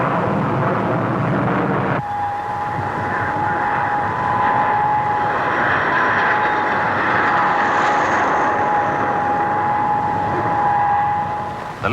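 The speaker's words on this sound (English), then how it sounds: "the Canberra trainer is now seen to advantage in a spectacular sequence which shows off her amazing maneuverability" English Electric Canberra trainer jet in a flying display at the 1950 Farnborough air show, its engines roaring steadily with a sustained whine throughout, loud and continuous, with no voices.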